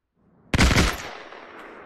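A single burst of close, loud gunfire from the Hell Let Loose World War II shooter game, with a sharp onset, a couple of rapid cracks and a trailing echo, with no talking.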